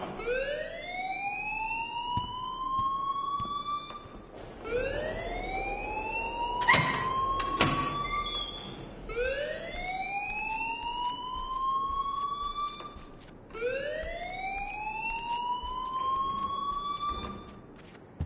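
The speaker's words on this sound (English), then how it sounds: "please turn off that alarm since that's your job" A video game alarm in Life is Strange wails in four long rising sweeps, each climbing in pitch and then dropping before the next, with a few brief clatters in between.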